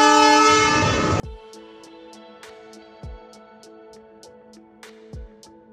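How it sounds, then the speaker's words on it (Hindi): Train departing a station in India: a loud horn blast opens the clip, then steady hums and periodic clanks and thuds as the cars roll away, with no voices. "ट्रेन चल दी है।"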